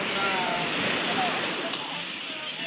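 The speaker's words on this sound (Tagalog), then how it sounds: "Grabe, lakas ng alon." Strong ocean waves crashing on a shore, heard as a loud, continuous roaring wash of surf with no breaks over the whole stretch.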